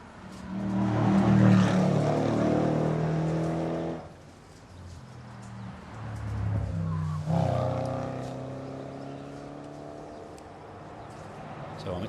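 A Jaguar SVO prototype car with a 5-litre V8 engine, still in prototype disguise, runs at a hill-climb festival of speed, its loud engine roar rising and falling as it passes, with commentary talk over it.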